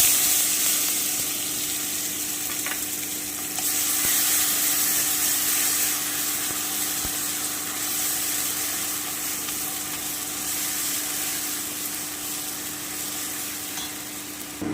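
Bottle gourd peel paste fries with black cumin in a pan, giving a continuous close hiss and sizzle of hot oil, steady and loud, with faint stirring scrapes over it and no talking.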